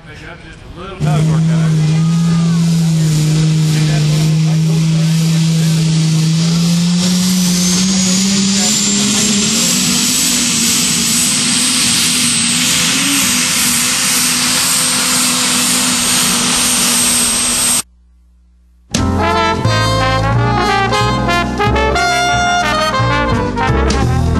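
Tractor pull engines roar loudly and continuously at the event, a heavy rising drone with a climbing whine that holds for many seconds, then cuts out briefly before more roaring.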